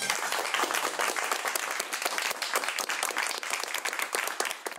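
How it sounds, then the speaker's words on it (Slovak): A studio audience at a Slovak television talk show bursts into close, crisp clapping, dense and continuous for several seconds at an even level with no voices on top. "Veľký potlesk, prosím."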